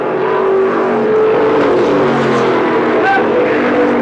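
Engine roar from race cars at an auto race, loud and sustained with a shifting pitch as the cars pass, mixed with a commentator's voice over the track noise.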